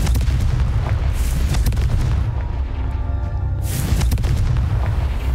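A Confringo blasting spell explodes in Hogwarts Legacy: heavy booming blasts with a rumbling low end, a short lull, then another loud burst of impacts.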